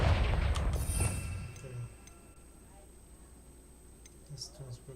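A Confringo blasting spell in Hogwarts Legacy goes off as a loud fiery boom at the start, rumbling and fading over about two seconds into near-quiet game ambience with a few small pops.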